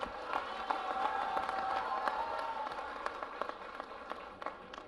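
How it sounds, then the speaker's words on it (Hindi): An audience applauds at the Sahitya Aajtak 2023 literary festival, a steady wash of many hands clapping with scattered sharper claps and faint crowd murmur, sustained throughout. "तालियां बजा दो फिर आप"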